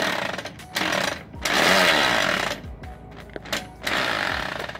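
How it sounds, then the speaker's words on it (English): Bursts of a power drill whine and grind as it drills out the motor mount bolts on a lawn mower, starting and stopping several times with short pauses between. "So I just went ahead and hooked it up this to the drill and see if I can drill them out."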